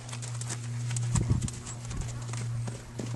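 Hooves clip-clop in a loose, uneven rhythm over a steady low hum, with a few louder strikes close by.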